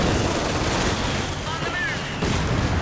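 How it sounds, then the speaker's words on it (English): Artillery fire in Company of Heroes 2, a dense, continuous rumble of booms and gunfire layered over the whole stretch, loud and busy, with a short dip before the barrage swells again. "Yeah, we have artillery down."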